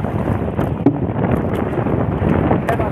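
Steady wind roars across open sea around a small paddled boat on a handline fishing trip, a continuous broadband rush with gusty swells and mic buffeting, no voices.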